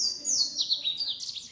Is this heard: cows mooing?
no